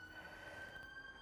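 Siren in London wailing at a steady pitch, distant and faint over soft background noise.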